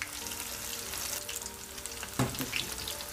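Potatoes fry in hot oil, a steady close sizzle and crackle of the crisping crust with a couple of sharper pops, and no talking.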